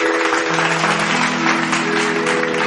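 An audience claps steadily and densely to welcome a singer onto the stage, a continuous wash of applause with faint sustained tones underneath.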